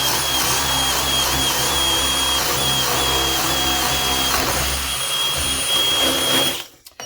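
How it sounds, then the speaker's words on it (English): A power drill bores straight down through wood to make a carpenter bee trap, a loud, steady whirring grind with a high whine that runs for several seconds and then cuts off abruptly near the end. "then we drill it out and make sure it's straight down"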